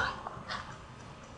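Boney, the dog from the video game Mother 3, gives a brief, faint whimpering yip over soft game background sound, ending in a short louder burst.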